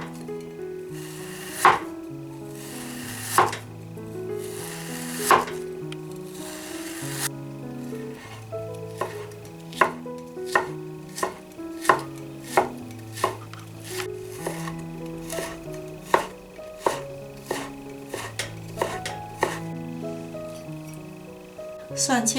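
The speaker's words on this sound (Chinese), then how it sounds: "咱们切鸡丝的时候选择半冰冻的状态，这样呢会比较好切，顺着纹路切" A knife chops half-frozen chicken breast into shreds on a board for a Shandong-style coriander chicken dish, giving a steady run of sharp, close taps, fast at first and then evenly spaced, with a low musical bed underneath.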